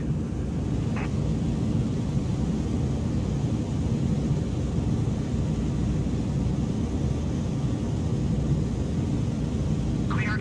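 Airliner on its takeoff roll on runway 27 left at night, a steady deep engine roar that stays constant and fairly loud throughout, like a continuous rumble heard from inside the aircraft.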